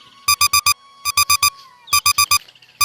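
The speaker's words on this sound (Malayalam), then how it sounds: "അലാറം ഒന്ന് ഓഫ് ചെയ്യൂ, മനുഷ്യനെ കിടന്ന് ഉറങ്ങണം." An alarm clock rings loud and close with repeated groups of four sharp electronic beeps separated by short gaps, over a faint steady tone and no speech.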